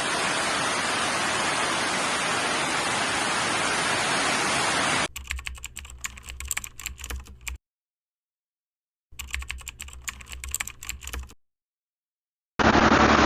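Steady, dense hiss of rain during a motorcycle ride for about five seconds, then cut to bursts of tapping clatter separated by stretches of silence.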